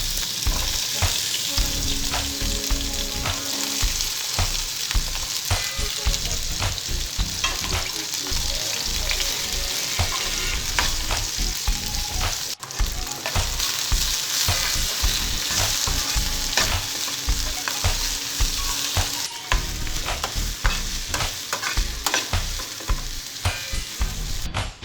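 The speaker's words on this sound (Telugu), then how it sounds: "బెండకాయ ముక్కలు ఫ్రై చేసుకోవాలి" Okra pieces fry in a pan for a Telugu roti pachadi, with a loud, dense sizzle that runs throughout. Stirring scrapes and clatters come in short, repeated bursts over the sizzle.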